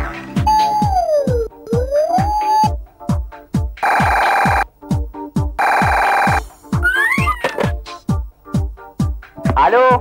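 A loud, electronic telephone ringtone plays close up, with rhythmic beeps, warbling tones and buzzing bursts repeating throughout.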